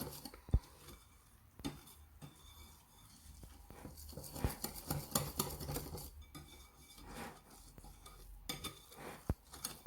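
A whisk beats liquid into flour for beignet dough in a bowl, giving quiet, irregular clinks, taps and scraping strokes, up close with short pauses between bursts.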